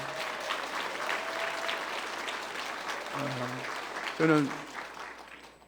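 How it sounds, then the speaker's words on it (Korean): Church congregation applauding at a parish district dedication service, a dense wash of clapping throughout, with a voice speaking over it and a brief louder burst near the end. "우리 3교구 박수 한번 해요"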